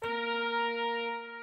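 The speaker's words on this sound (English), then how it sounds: "We come to the brass section and we're taking Lalo's choice" A synthesized brass patch called Lalo's Choice from the Nexus Expand library in FL Studio holds one sustained, rich chord with a soft attack, quiet and alone, fading slightly at the end.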